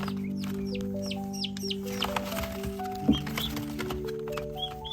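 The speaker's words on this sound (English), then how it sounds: "So these are my day-old turkeys." Day-old turkey poults peep continuously in high, sweet chirps, many overlapping calls near and steady, with soft rustling and a brief bump.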